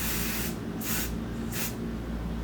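Three short bursts of a spray can hiss onto the fabric exterior piece of a small handbag, close and loud against a steady background hum.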